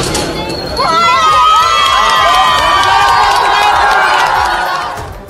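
A crowd of schoolgirls cheers and shouts loudly at close range after the lock on a liquor shop is broken. Excited high-pitched voices swell and hold, with some clapping under the cheering, then fade toward the end.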